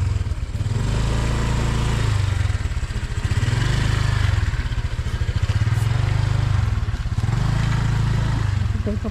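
A motorcycle rides onto a rural dirt path in a barangay in Malalag. Its engine runs loud and close, with a throbbing low-pitched rumble that rises and falls as the throttle shifts, and no one talks.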